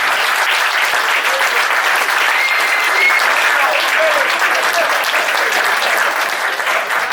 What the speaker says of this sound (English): Let's give them this fantastic group a round of applause